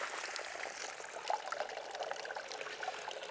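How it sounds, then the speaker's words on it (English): Water trickles out of a soil erosion demonstration container in a steady, faint, close trickle with no voices. "a tiny amount of water coming out through here"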